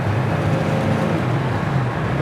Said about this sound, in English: Take it over to fourth gear, still cruising down the road beautifully.